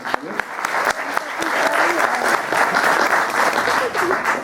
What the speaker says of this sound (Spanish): También demos un caluroso aplauso.